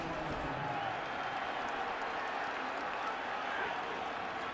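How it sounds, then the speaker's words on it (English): Philadelphia Eagles fans in a stadium crowd booing, a faint, steady crowd roar heard at a distance with a murmuring texture, while a commentator talks over it. "You heard some boos here in the crowd from the Philadelphia Eagle fans"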